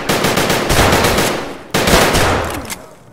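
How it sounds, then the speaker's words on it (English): Video game gunfire as a player fights a scav: rapid automatic bursts of sharp shots, a brief pause, then another loud volley that tapers off. "Player fighting a scav? Yeah, that shot's not at me."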